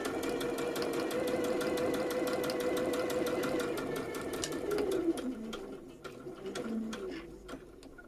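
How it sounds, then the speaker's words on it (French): Domestic sewing machine stitching fabric for a Tilda rabbit toy, a steady rapid mechanical whirr with fine repeating needle clicks that slows and stutters toward the end. "on va donc coudre tout le long du trait"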